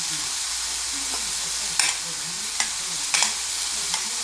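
A mushroom and truffle mixture stirred in a pan, with a steady sizzling hiss under several scraping, clattering strokes of the utensil, close up and without voices.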